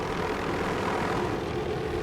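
A steady, continuous aircraft engine drone with a rhythmic rotor-like throb, loud and unbroken throughout.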